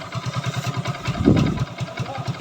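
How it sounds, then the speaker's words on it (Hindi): A Hero Glamour motorcycle engine idles after a kick start, a steady, close, rhythmic low putter with one brief louder surge midway, no talk over it. "तो यहाँ देखें इंजन की साउंड"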